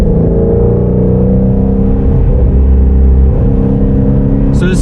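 Ford Mustang Shelby GT350 engine off throttle in third gear at about 4,000 RPM, engine braking downhill, a steady droning rumble with layered harmonics heard from inside the car, continuous and fairly loud throughout.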